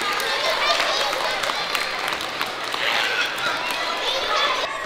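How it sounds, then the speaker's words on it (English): A gym audience applauds stunt performers after their tricks, with dense clapping and some crowd noise running steadily at a moderate level. "If you guys could give them a round of applause for the tricks that they did today."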